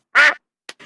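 A cartoon duck from Peppa Pig gives one loud, close, nasal quack, followed by two short, fainter quack fragments.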